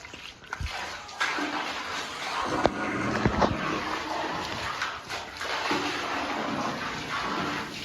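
A household water tank filling from a tap, a continuous rushing, splashing flow with intermittent knocks and clatter nearby, and faint voices in the background.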